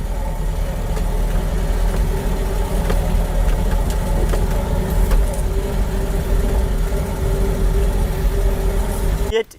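A 1957 Fiat Elegant's engine runs at a steady idle-like hum, close and continuous, while someone talks over it.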